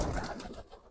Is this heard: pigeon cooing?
yes